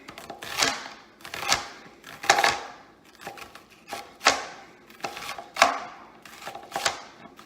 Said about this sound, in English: So I'm cutting thin slices across the grain of the onion.